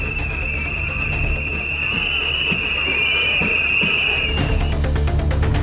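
Boys whistle during a temple chariot festival procession. One long, steady high whistle carries for several seconds under a news narrator's voice.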